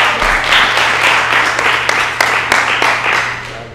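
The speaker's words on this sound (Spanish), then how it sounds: "un aplauso para vos, hombre." Audience at an evening talk applauding a speaker, a steady wash of many hands clapping throughout, fairly loud and full.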